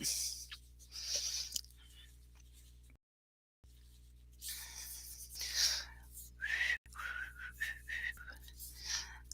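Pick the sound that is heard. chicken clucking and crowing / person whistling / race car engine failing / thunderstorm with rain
person whistling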